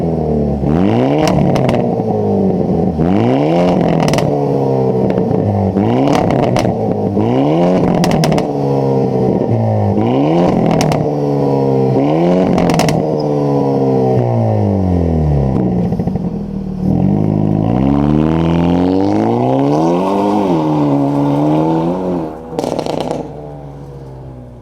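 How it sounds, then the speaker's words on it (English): Hyundai Elantra N with an 8-speed DCT, its engine revving repeatedly in sharp rising and falling sweeps, close and loud, with crackles between blips and a final louder run near the end. "let's fire up Joel's Elantra N and hear what it sounds like"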